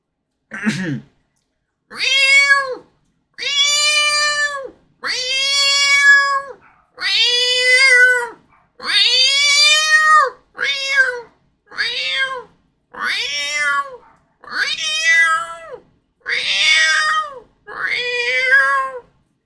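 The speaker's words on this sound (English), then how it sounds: "Oh my god, the cat noise." Repeated cat meows played as a stream sound effect, about a dozen separate calls in a steady series with short gaps, loud and close, with no talking over them.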